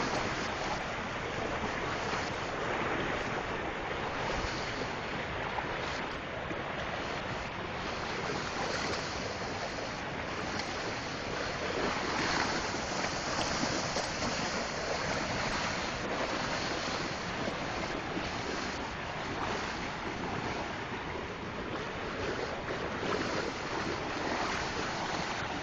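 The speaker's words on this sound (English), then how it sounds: "this is the Housatonic River in Derby, Connecticut after Hurricane Irene." The Housatonic River in Derby, Connecticut, swollen by Hurricane Irene flooding, roars as a dense, steady rush of water, loud and unbroken throughout, with some wind buffeting the microphone.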